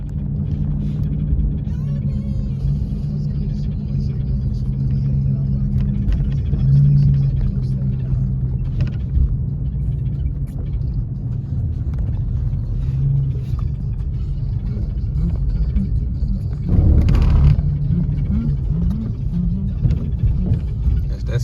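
A car drives along a road with a steady low engine rumble and road noise from inside the cabin, a brief louder burst near the end, and no talk over it.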